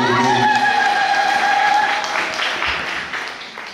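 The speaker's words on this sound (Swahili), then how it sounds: "Pigia Yesu makofi" A congregation at a church youth festival applauds, a loud, dense burst of clapping from many hands that fades out over a few seconds, with a voice heard at the start.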